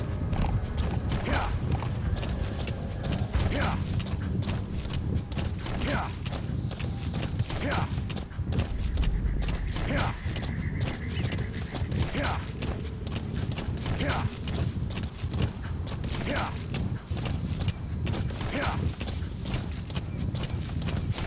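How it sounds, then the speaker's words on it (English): Horses in Metal Gear Solid V: The Phantom Pain trot and gallop with steady, rhythmic hoof clip-clops and creaking tack, loud and continuous throughout, with someone talking briefly over them. "Oh no, a load of horse riding."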